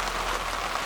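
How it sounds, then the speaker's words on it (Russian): Steady rain pattering on a surface outdoors on a lakeside slope, a dense, even hiss of drops with no talk. "дождь меня уже сам встретил"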